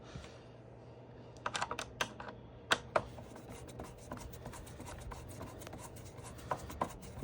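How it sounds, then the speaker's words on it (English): Screws being driven back into a Dirt Devil upright vacuum by hand, heard as scattered light clicks and scraping rubs up close over a low steady hum, with a few sharper ticks bunched together. "Put the 8 screws back into the machine like so."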